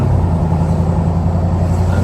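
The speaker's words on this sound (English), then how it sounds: "It's crazy how much difference in exhaust sound just changes the way everything you think about the vehicle." Deleted exhaust on a 2020 Ford Super Duty Tremor with the Powerstroke diesel, a loud, steady low rumble at idle that fills the whole stretch without letting up.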